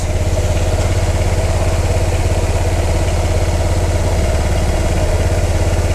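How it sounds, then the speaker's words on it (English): A 2024 Honda SH150i scooter engine idling steadily with a low, even throb and light mechanical clatter, close by and continuous with no talking. "We've started the bike. We leave it run for a bit."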